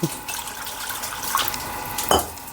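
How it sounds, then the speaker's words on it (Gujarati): Water splashes into a metal pan in a short burst, with a couple of clanks, close and fairly loud. "આમાં હું પાણી નાખું"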